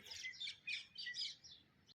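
Several birds chirp in quick, bright bursts, fairly close, with a quiet background, ending abruptly.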